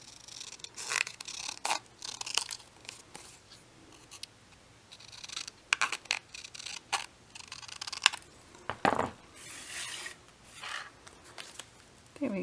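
Small scissors snipping a piece of paper for a little craft journal, quiet close-up cuts and rustles in uneven clusters, with soft handling noises between snips and no talking.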